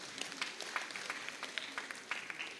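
A church congregation at a Kikuyu Sunday service claps in scattered applause, quiet and somewhat distant, lasting a few seconds.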